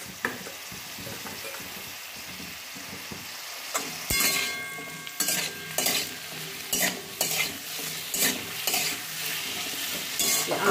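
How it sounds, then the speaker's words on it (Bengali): Small cut potatoes frying and being stirred in a pan with spices, ginger paste, cumin and coriander powder, a steady sizzle broken by repeated scraping and clinking strokes of the spoon. "আলুটা লাল করে ভাজা হবে"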